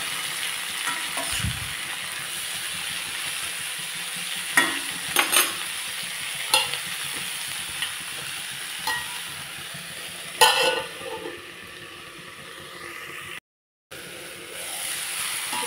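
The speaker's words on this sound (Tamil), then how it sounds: "நல்லா வதக்கிட்டு, உப்பு போட்டு நல்லா வதக்கிட்டு கொஞ்ச நேரம் மூடி வச்சு வேக விட்டுடலாம்." Long beans (valli payar) stir-frying with salt in a pan, a soft continuous sizzle with occasional scrapes and clinks of a spoon against the pan, no voices.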